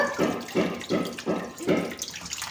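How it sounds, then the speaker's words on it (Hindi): Fish being rubbed and washed with flour under running water, five rhythmic sloshing scrubbing strokes over a steady splash of tap water, close by with no talking. "अब आटे के साथ मल मल के धोएंगे इसे"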